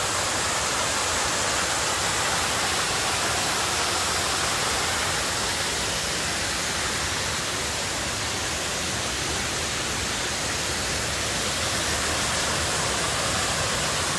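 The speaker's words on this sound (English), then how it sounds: "A beautiful waterfall." Water from the Erie Canal Forestport Feeder pours as a waterfall into the LansingKill in Boonville Gorge, a loud, steady, broadband roar that stays constant and close with no voices.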